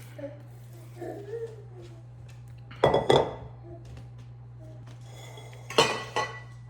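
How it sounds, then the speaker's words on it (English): Lemon poppy seed muffin batter scraped from a bowl with a utensil, giving two short scraping-clinking bursts near three and six seconds, with a steady low hum and faint clatter between them. "There's a little bit left in this bowl, so I'm gonna scrape it down"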